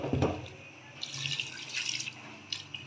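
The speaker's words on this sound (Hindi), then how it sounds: "पानी मैं इसमें शामिल करूँगी, सिर्फ इतना पानी जिसमें ये आराम से गल जाए" Water pours into a cooking pot of beef and spices for a white korma. The stream runs steadily and fairly close for a few seconds, with splashing and a slight rise in tone as the pot fills.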